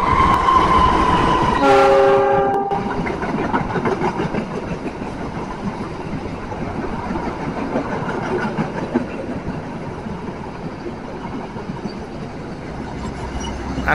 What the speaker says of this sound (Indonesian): kereta api Argo Wilis ini di kota Solo berhenti di stasiun Solo Balapan